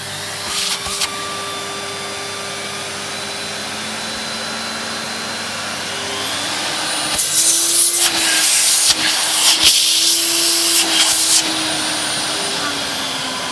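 A Vax 6130SX vacuum cleaner with 1050 to 1300 watt variable power runs as a steady close roaring whine that grows louder and harsher midway, then settles back to a constant drone.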